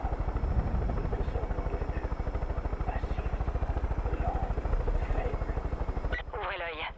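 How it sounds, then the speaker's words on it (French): Helicopters fly over in Far Cry 5, a loud, steady rotor chop throbbing throughout under voices, with a brief burst of speech near the end. "Ouvrez l'œil, il y a des hélicos dans le secteur."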